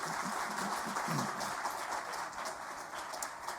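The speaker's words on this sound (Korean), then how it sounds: "우리 뜨거운 박수로 한번 격려하겠습니다" A church congregation at a Sunday worship service gives warm applause, a soft, steady patter of clapping heard from a distance throughout, with no voices on top.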